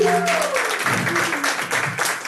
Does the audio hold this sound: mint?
no